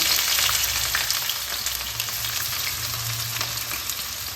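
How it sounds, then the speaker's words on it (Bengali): Chopped onions sizzle and fry in hot mustard oil in a pan, a steady close crackling hiss that holds at an even level throughout. "আড়াইশো গ্রাম পেঁয়াজ কুচি করে রেখেছি এটা তেলের মধ্যে লেগে দিলাম"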